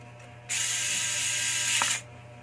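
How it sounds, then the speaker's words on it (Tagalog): A screwdriver tightens screws on a Realme C11 phone during a repair, giving one steady ratcheting whir that lasts about a second and a half, close and alone. "higpitan na natin itong mga tornilyo"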